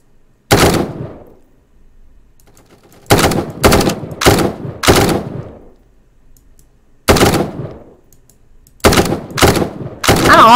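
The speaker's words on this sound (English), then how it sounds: "I'm gonna try to shoot this dude." Video game gunfire in Prison Royale, with several short bursts of rapid automatic shots separated by quiet gaps, loud and close with no voices.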